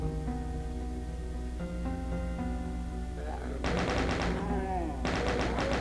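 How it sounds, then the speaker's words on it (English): A chain gun fires at enemies in Doom TNT: Evilution, Map06 Open Season: rapid, close bursts of gunfire over droning game music, with two distinct volleys in the second half. "we can actually snipe off these enemies from below with the chain gun"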